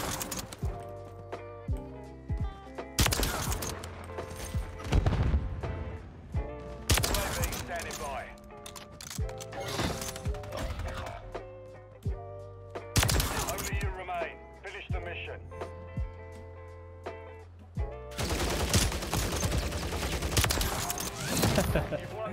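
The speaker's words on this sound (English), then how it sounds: "We're trying out the classic KAR98K." Bolt-action KAR98K rifle firing in a shooter video game: loud, sharp individual shots spaced several seconds apart, with softer clatter and game ambience between them.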